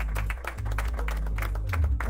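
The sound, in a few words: audience applause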